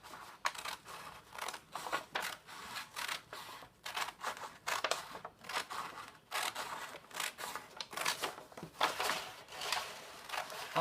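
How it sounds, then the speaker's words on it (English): Scissors cut through a brown paper bag along its center fold, a series of crisp, close snipping and slicing crunches in a steady rhythm, alone without talk. "I'm going to put my scissors in the center fold"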